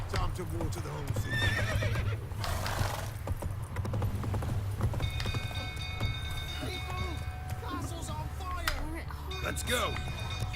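Horses neigh and whinny over clip-clopping hooves in The Witcher 3, with game music and ambient noise running throughout and a voice talking over part of it.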